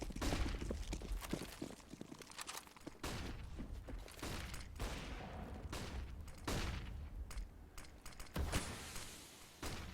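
Rapid gunfire from MP7 and UMP submachine guns, M4A1 rifles and an AWP sniper rifle in a competitive shooter video game match, with dense overlapping shots and sharp bursts throughout.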